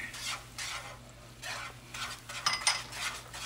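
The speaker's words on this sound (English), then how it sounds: "So we just gonna keep on stirring this." Bananas foster sauce with vanilla and rum stirred in a pot for smoked bread pudding, repeated scraping strokes of a utensil against the metal with soft sizzling underneath, close and moderately quiet.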